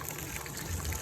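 Water gushes and splashes briefly as it pours into a pot on a gas stove, close by and moderately loud.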